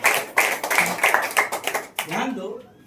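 A congregation claps hands together at a church service, a run of sharp, fairly close claps in quick succession that thins out and stops, with a voice sounding near the end.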